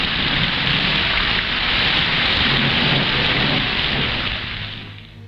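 A violent thunderstorm in a 1947 film soundtrack: heavy, loud rain hisses continuously with deep thunder rumbling beneath, the storm holding steady before fading out at the very end.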